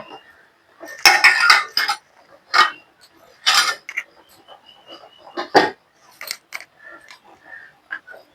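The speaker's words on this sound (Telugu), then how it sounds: "బాండి పెట్టేసుకోండి ఆయిల్ పోసేసుకోండి డీప్ ఫ్రైకి సరిపడినంత ఆయిల్ పోసేసుకోండి" A metal kadai is set on the stove and oil goes in for deep frying, heard as loud, close clanks and knocks of cookware in irregular bursts separated by near silence.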